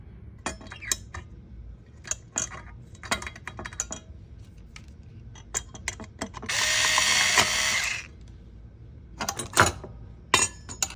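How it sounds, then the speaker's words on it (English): Screws are driven into a metal plier rack frame with a screwdriver or electric screwdriver: scattered sharp metallic clicks and ratcheting taps, then a steady whirring burst of about a second and a half, and more clicks after. "screw them the rest of the way with a screwdriver or an electric screwdriver like this"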